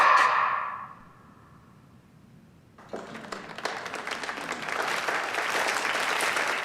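In a scene of the film The Six Triple Eight, a room of people bursts into applause after a quiet pause, the clapping swelling and continuing steadily to the end.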